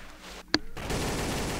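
A single sharp gunshot in the video game Trouble in Terrorist Town, one loud crack after a brief quiet moment, followed by a steady game noise bed.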